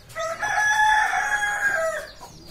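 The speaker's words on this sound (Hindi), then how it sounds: "यहाँ पर ये बिहारी मुर्गी के नाम से मार्केट में बिकती है" A Bihari desi rooster crows once, close and loud, with a long drawn-out call, and soft hen clucking comes before and after it.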